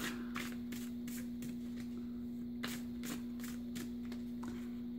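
Tarot cards are shuffled by hand in a series of soft riffling bursts, close and fairly quiet, over a steady electrical hum with no one speaking.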